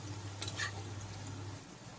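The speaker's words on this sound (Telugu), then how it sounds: "చూడండి ఎలాగా ఆనియన్ వేగుతుందో" Onion and chicken frying together in a pan for chicken curry, with a quiet, even sizzle and a couple of brief stirring scrapes near the start, then a low steady fry.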